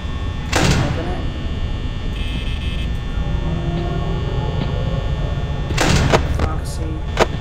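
The office door in Five Nights at Freddy's slides open with a mechanical whoosh, heard twice as sharp bursts over a steady electrical hum, with a voice talking in between.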